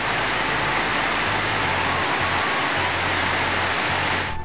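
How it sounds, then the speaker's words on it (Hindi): Steady, loud rain falling, a dense continuous hiss of drops hitting surfaces, with a low hum underneath throughout. "बट अभी दिक्कत यही हो रखा है कि बारिश गिर रहा है अभी"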